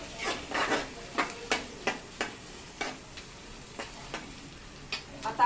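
Chopped onion with chilli stirred and frying in a pan for egg rice, a steady sizzle broken by a series of sharp scraping stirs close by, with no talking.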